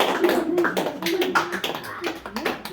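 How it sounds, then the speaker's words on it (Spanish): A church congregation at a Sunday service claps in a loose, uneven rhythm while a voice talks over the clapping. "Demos un fuerte aplauso."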